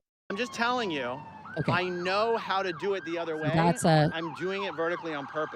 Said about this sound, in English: That sounds like that's a fire truck again.